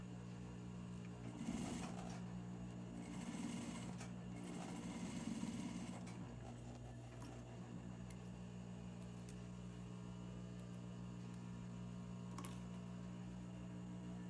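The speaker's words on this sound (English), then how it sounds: "Now stitch close to the seam line." A sewing machine runs steadily, stitching a seam while taking in a pair of pants at the waist. Its even mechanical whir carries on close and quiet with no talk, and brief louder handling noises come near the start.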